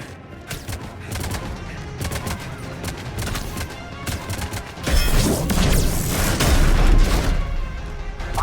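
Gunfire in the Mass Effect 3 video game: loud, sustained bursts of shots and booms, growing denser and heavier in the second half, with no talk over them.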